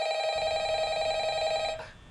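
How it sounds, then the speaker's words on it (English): A telephone rings in the video game Five Nights at Freddy's: one sustained, bright electronic bell tone, loud and steady, then cut off abruptly near the end, with no talk. "Why is the phone ringing?"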